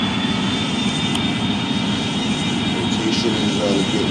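Airbus A310 airliner jet engines at high power for takeoff in a flight simulator game, a dense, steady, loud roar with a high whine running through it.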